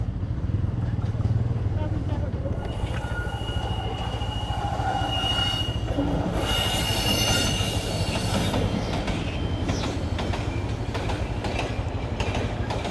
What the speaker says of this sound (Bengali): এই তো এটা ক্রসিং দিয়ে দিছে, ট্রেন আসতেছে মনে হয়